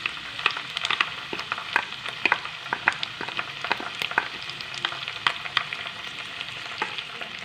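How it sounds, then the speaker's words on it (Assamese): Ground spice paste sizzling and spluttering in hot oil with bay leaves in a pan while jeera rice is cooked, a dense close crackle with frequent sharp pops and some stirring, no voices. "এতিয়া পিচি থোৱা মছলাখিনি দি দিছোঁ।"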